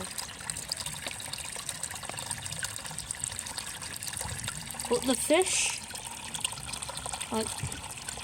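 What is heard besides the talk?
waterfall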